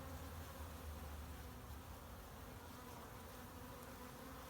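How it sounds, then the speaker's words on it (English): Bees buzzing steadily around apple trees, a constant droning hum with no pauses, fairly faint and even throughout. "You can probably hear the bees are going crazy at the moment"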